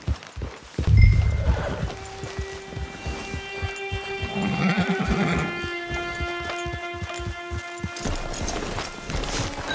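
A horse in Red Dead Redemption 2 Online neighs with a long, shaky whinny, set against a steady musical background and soft hoof clops.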